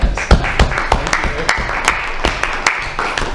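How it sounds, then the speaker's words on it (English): A round of applause at a student senate meeting, with scattered hand claps in an uneven rhythm from a small group in a room. "Round of applause."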